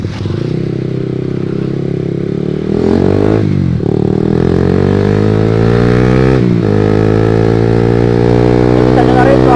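A Honda CB150R motorcycle with a long Pro Liner TR-1 carbon exhaust idles loud and close, then is revved sharply twice. Each rev rises in pitch and drops back to a deep, steady rumble.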